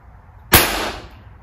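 A single sharp crack from a Webley Rebel manual pneumatic air rifle firing a pellet, loud and close, with a short ringing decay in an otherwise quiet room.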